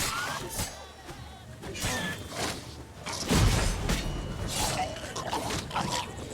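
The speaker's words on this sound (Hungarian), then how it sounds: "Jaj, ezek robbannak!" Monsters exploding in The Witcher 3 on Death March difficulty: a burst of crashing, thudding booms amid chaotic combat noise, with a person talking over the game sounds.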